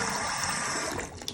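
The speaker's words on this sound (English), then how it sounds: "So obviously run the water." Water runs steadily from a bathroom sink faucet in a home with a double-sink vanity, a close, continuous rushing hiss with no talk over it.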